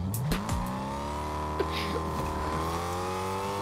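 A car drives in Fortnite Battle Royale, its engine holding a steady, rising hum with a few brief clicks and bumps over it.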